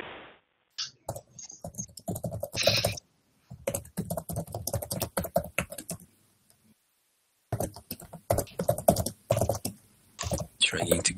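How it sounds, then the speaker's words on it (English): Typing on a computer keyboard picks up during a 2015 podcast conversation about bug status. The clicks come in dense bursts, close and moderately loud, broken by short pauses and sometimes overlapping the voices. "Trying to guess who's typing, this guy."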